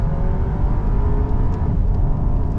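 Volkswagen Tayron 195TSI engine revving hard in second gear while climbing a hill, a loud, steady low drone with a continuous rumble, heard from inside the cabin with no talk.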